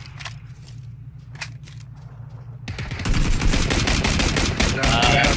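Video game gunfire at a shooting range: sparse single shots at first, then from about three seconds a loud, dense burst of rapid automatic fire fills the rest.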